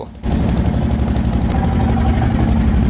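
A trawler's diesel engine hammers loudly at close range with a rapid, steady chugging as the boat crosses a rough, wind-whipped river, starting abruptly after a brief quieter moment.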